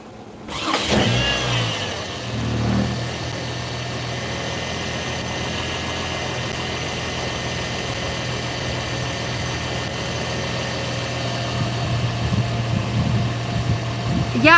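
A Chevrolet Trailblazer engine cranks and catches after stalling, then settles into a steady, close rumbling idle with a slight rise in revs near the end, while a voice talks faintly over it.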